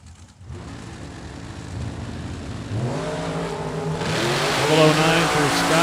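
A dragster and a Miller Roadster rev up for a drag racing launch, engine pitch climbing in rising sweeps as the roar grows louder and harsher toward the end.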